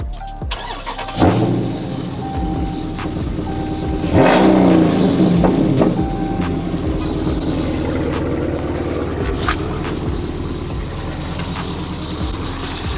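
Dodge Charger Scat Pack with a 6.4 liter Hemi V8 starting and revving nearby, loud deep engine with a sharp rev swell early on, then a steady throaty idle.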